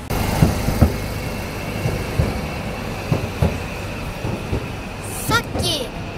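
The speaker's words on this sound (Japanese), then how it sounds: "ホームが狭いのでめっちゃ目の前に路面電車が止まり" Kumamoto city tram pulling in close beside a narrow platform, with low rumbling, clunks of wheels over rail joints and a brief high squeal near the end, plus faint background voices.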